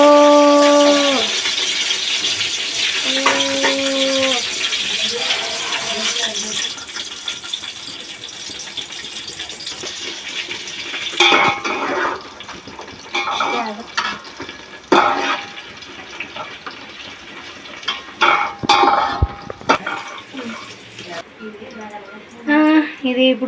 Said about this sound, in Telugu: బియ్యం కడగాలి, బిర్యానీకి కావాలి కాబట్టి